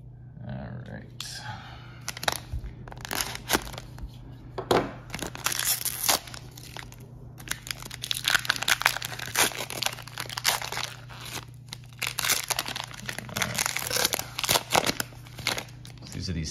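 Trading card cello pack wrappers being cut open by hand at a table, with sharp crinkling and tearing bursts of plastic in uneven clusters, close and fairly quiet, with brief speech between the bursts.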